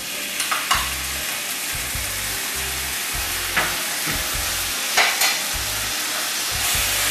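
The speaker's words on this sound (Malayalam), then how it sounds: "തൈര് കാഷ്നട്ട് കൂടെ മിക്സ് ചെയ്ത് വെച്ചതാണ് ഇതിലേക്ക് ചേർത്ത് കൊടുക്കുന്നത്" Yogurt and cashew paste stirred into potatoes frying for achari aloo: a continuous loud sizzle with repeated spoon scrapes and stirring knocks at irregular intervals, close up and without any talk.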